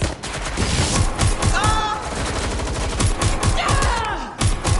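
Rapid gunfire in Watch Dogs: Legion, bursts of automatic shots and single cracks crowding together loud and continuous, with brief whooshing tones and a voice calling out over the shooting.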